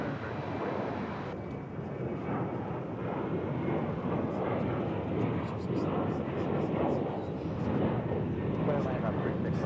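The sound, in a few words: American Airlines 353 airplane landing on runway 36 left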